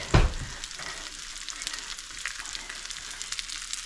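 Breadcrumb-coated razor clams sizzling in a hot pan, a steady dense frying hiss after a brief clunk at the start, close and moderately loud with no talk.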